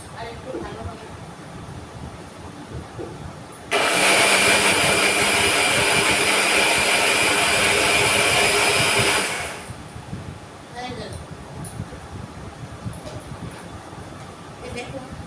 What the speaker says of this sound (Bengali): মিক্সিতে পেস্টটা সুন্দর হয়ে গেছে। তবে আমি আরেকটু দিয়ে দিই